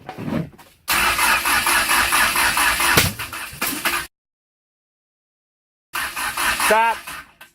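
An open turbine engine spools up with a loud, steady roar that runs for about three seconds, cuts abruptly to silence, then returns with a rising whine as a voice speaks over it.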